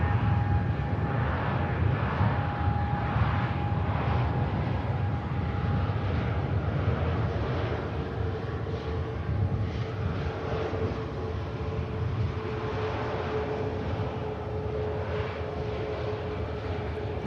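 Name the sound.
airliner landing with thrust reversers deployed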